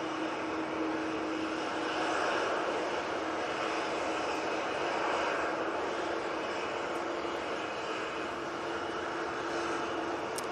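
A Boeing 737-800 jet on the runway, tied to a Palma de Mallorca flight, gives off a steady, broad engine roar that holds evenly at a moderate distance for the whole stretch, with no voices over it.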